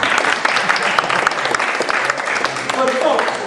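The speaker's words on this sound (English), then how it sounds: "Give him a round of applause." A conference audience breaks into a sustained, loud round of clapping that runs throughout, and a voice seems to rise briefly near the end.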